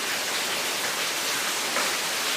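Light drizzling rain patters steadily as an even broadband hiss, fairly soft and continuous with no voices.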